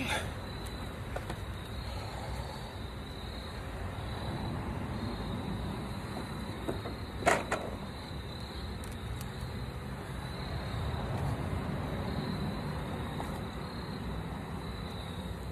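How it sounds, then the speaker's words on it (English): A low, continuous hum of honey bees droning at a hive during a honey harvest, steady throughout with a single sharp knock near the middle. "My busy bees at work."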